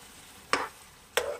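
Marinated chicken is stirred in a pan with two short scraping strokes about half a second apart. Each stroke carries a soft sizzle, and the sound is close and fairly quiet.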